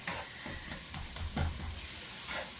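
Sauce bubbling in a very hot pan while making rice, a steady loud sizzle and hiss with a few stirring scrapes and pops close by, and no one talking.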